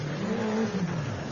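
A Peugeot AP4 rally car accelerates past a spectator point on a Rally Queensland stage near Greendale. Its engine note climbs and then drops away as it passes close by, loud and steady for about a second.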